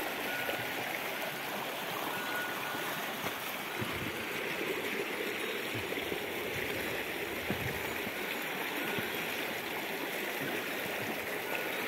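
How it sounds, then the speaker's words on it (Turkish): Creek water rushes steadily over small cascades in a forest, forming a close, continuous broadband flow with no talk. "Biraz derenin suyundan bırakayım size arkadaşlar."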